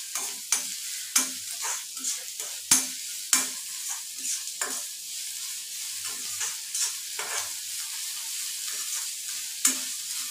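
Vegetables stir-fry in an iron pan with coarse salt, a soft sizzle broken by repeated sharp scrapes and clanks of a spatula against the metal, close and without talk.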